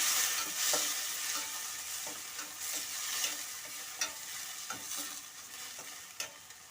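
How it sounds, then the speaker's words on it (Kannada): Three finely chopped tomatoes frying with onions in a pan, a bright steady sizzle close by, broken by frequent spatula scrapes and taps as the mixture is stirred, with no voices. "ಸಣ್ಣಗೆ ಹೆಚ್ಚಿರುವಂಥ 3 ಟೊಮೊಟೊನ ಮಿಕ್ಸ್ ಮಾಡ್ಕೊಳ್ತಾ ಇದ್ದೀನಿ. ಇದು ಕೂಡ ಫ್ರೈ ಆಗಬೇಕು."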